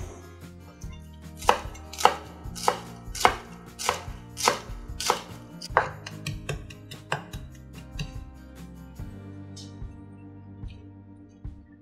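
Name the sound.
mincing shallots with a knife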